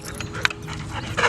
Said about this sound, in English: I'm at the dog park